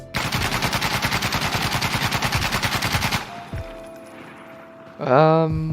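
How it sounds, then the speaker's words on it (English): An Mk17 rifle with a foregrip fires in Insurgency: Sandstorm, unleashing a loud, rapid burst of about three seconds of close automatic shots, followed by mechanical clicks and a rising reload or handling sound. "Mk17 mod with a foregrip recoil test"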